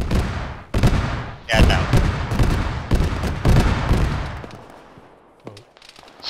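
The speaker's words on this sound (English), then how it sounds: "As soon as all the explosions stop" ArmA combat with heavy explosions and rapid gunfire booming in dense overlapping bursts near a smouldering town. The noise thins toward the end, and a voice speaks briefly.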